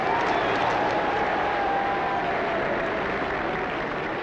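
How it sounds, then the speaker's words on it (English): Race-day crowd at a Formula One grid cheering and applauding as James Hunt's car returns, a dense, steady roar of clapping and voices with a faint engine tone running beneath it. "When they return to the grid, the crowd goes wild."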